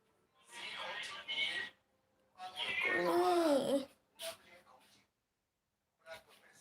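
A domestic cat meows in short, fairly close calls with gaps between them, mixed with a person talking nearby.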